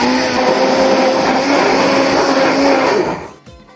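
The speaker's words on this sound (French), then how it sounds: "Voilà, j'ai mis de l'eau, comme ça je suis Heisenberg. Donc c'est parti pour mixer." A kitchen blender whirs loudly and steadily as it mixes a drink with added water, then winds down and stops near the end, leaving brief faint clatter.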